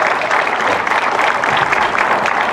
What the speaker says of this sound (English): How about a round of applause for all 4 of these incumbents,